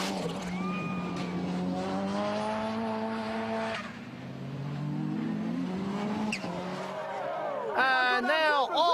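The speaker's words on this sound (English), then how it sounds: "British Rallycross cars are twice as powerful and crash just as spectacularly, as Lawrence Gibson proves as he gets the 6R4 airborne" An MG Metro 6R4 British Rallycross car racing and getting airborne, its engine note rising and falling loudly, then tires squealing near the end, with a commentator talking throughout.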